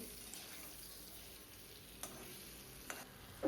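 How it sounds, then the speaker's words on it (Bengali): Potatoes with turmeric frying in oil in a pan: a faint, steady low sizzle with a few soft clicks, and a louder stir or clatter at the end. "কিছুটা পরিমাণে হলুদ দিয়ে একইভাবে আলুগুলো ভেজে নিতে হবে"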